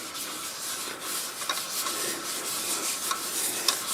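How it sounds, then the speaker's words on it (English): Abrasive sanding paste rubbed over a black walnut wood turning, a soft, close, continuous hiss of friction with faint rhythmic swells and small ticks, and no voices. "I'm going to go over this with the Axe sanding paste"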